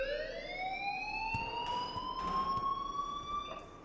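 An alarm in the video game Life is Strange Remastered blares a loud, continuous electronic tone that slowly rises in pitch, rich in overtones, with a few faint clicks scattered over it.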